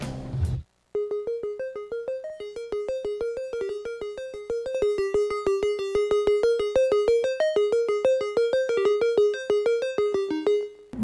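A synth pluck made in Serum from a detuned triangle wave layered with a sine wave plays a quick repeating melody of short bright notes in an even rhythm, clean and close with no voices.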